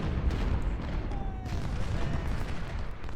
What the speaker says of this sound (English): Cannons there are firing at these guys.